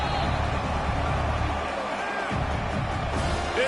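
A large college football stadium crowd roars steadily on a third down, a dense wash of noise that dips briefly before swelling again.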